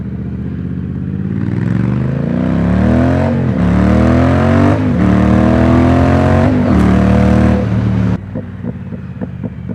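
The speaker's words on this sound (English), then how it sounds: "just listen to the decel pop. It sounds so delicious." A Triumph Speed Twin motorcycle with British Customs turn-out exhaust tips revs loudly up through the gears, then drops off throttle into a short run of sharp crackling pops at the end.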